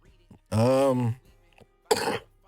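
A single harsh, drawn-out cough close by, followed a moment later by a shorter rough cough or throat clearing.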